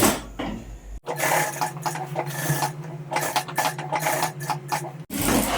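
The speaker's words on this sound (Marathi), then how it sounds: "आपल्याला असं कॅनव्हास फोल्ड करून घ्यायचं आणि त्याच्यानंतर अशी शिलाई मारायची" A sewing machine stitches folded canvas for a blouse, running in a close, steady mechanical whirr of about four seconds with rapid rattling stitch beats, framed by brief pauses before and after.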